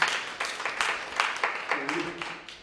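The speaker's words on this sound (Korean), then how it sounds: "다시 한번 박수 부탁드리겠습니다." A forum audience in Muju claps together in a short, steady round of applause, the individual claps falling in a rhythmic pulse before fading out.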